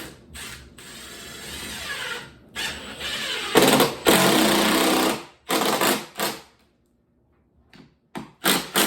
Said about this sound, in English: So we're putting these screws in.